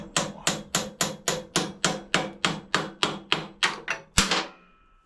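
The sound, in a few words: hammering metal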